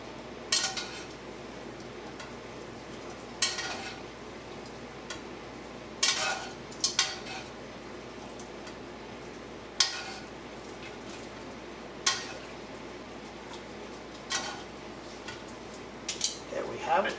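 Cooked pasta being mixed into a three cheese sauce in a pan, with scattered light clinks and scrapes of a utensil against the pan at irregular intervals over a quiet background.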